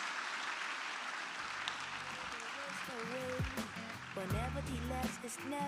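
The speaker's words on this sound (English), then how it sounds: "I think he deserves a better round of applause." Audience applause for Dr. John at a Q&A session, a dense steady wash of clapping throughout, with a voice and some tonal sounds rising over it in the second half.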